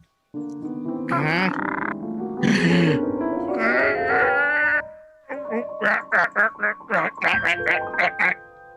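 A voice imitates a duck with a run of rapid, loud, nasal quacks close by, following a stretch of drawn-out, moaning vocal sounds.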